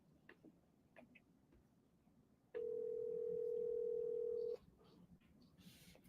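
An outgoing telephone call gives one long, steady ringback tone of about two seconds, clear and loud over a faint room hum, with no talking.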